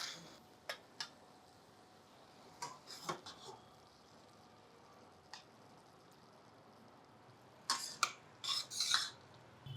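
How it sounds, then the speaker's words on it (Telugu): A spoon scraping and clinking against a pan while cooked eggplant fenugreek curry is transferred into another bowl, a few scattered soft taps and scrapes followed by a quicker cluster of metallic clatter near the end, quiet and without talk. "కూర వేరే బౌల్లోకి తీసేసుకుందాం."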